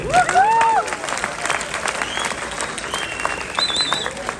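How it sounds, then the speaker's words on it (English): An audience applauds for Khabib Nurmagomedov at an interview event in Canada, loud dense clapping with some cheering and whistles from the crowd, mixed with scattered voices throughout. "Round of applause for Khabib."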